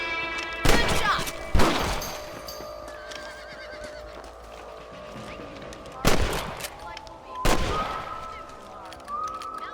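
Rifle shots in Red Dead Redemption crack out sharply on a ranch, two pairs spaced several seconds apart. Horses neigh and someone talks in the gaps.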